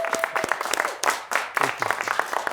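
Studio audience applause greeting a guest on a television news show, dense close clapping with a few voices and cheers mixed in, fairly loud and continuous.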